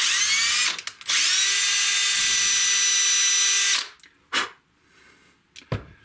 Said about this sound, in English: Just do a little bit of a pilot hole.